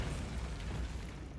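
Bombarda explosion spell cast in the Hogwarts Legacy video game, a brief muffled blast with a rumbling, fading tail, fairly quiet.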